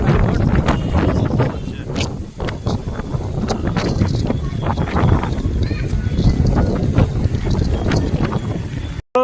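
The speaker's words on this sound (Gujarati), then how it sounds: "ભર ઉનાળે અત્યારે વાવાઝોડા જેવું વાતાવરણ છે. આ જોઈ લો પવન ડીમાર્ટમાં." Strong, storm-like wind buffets the microphone outside a D-Mart store in Surendranagar during summer, a loud continuous rumbling roar with gusty bursts, close and harsh, lasting throughout and cutting off abruptly at the end.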